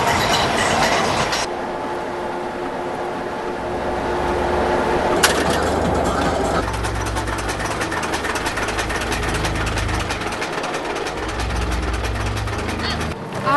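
A road train of about 50,000 kilograms rumbles past with a deep engine drone and rhythmic clattering, loud and close, while a person talks over it.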